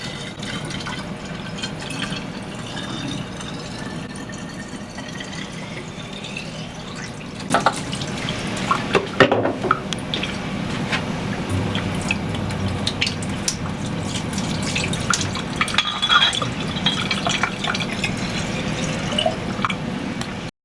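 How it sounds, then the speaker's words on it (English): A whole bottle of Jaeger glugs and splashes as it is poured out in a long, continuous stream, with liquid gurgling, dripping and trickling close by for about twenty seconds. "that was pour an entire bottle of Jaeger"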